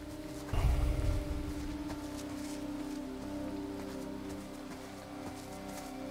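Rain falling in the horror video game The Quarry, a steady soft patter over a low droning game ambience, with a brief heavier rumbling burst near the start before settling into an even hiss.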